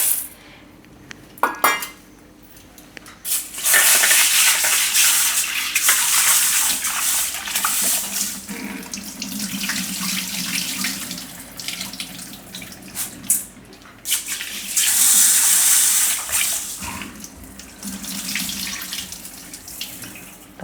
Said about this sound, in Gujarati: તો પહેલાં આપણે આ મગ છે એને આપણે વાટકામાં નાખીને ધોઈ નાખીશું.